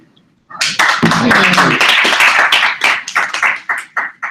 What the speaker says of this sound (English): let's just welcome him with a small round of applause.